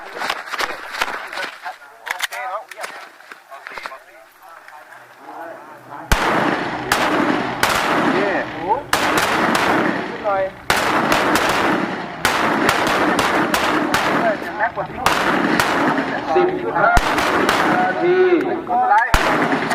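Loud, repeated gunshots ring out at an annual shooting range practice, with sharp bangs in irregular succession after a quieter start, while a range officer's voice calls commands over a loudspeaker.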